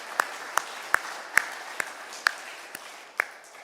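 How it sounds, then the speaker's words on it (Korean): A church congregation at a Sunday morning service applauding in scattered, sparse claps that sound distant and thin, about eight distinct claps over a faint room background. "여러분 격려의 박수 주십시오"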